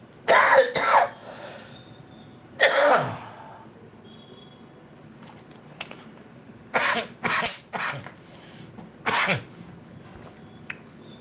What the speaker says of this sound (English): this cough is the only thing that I don't have explanations for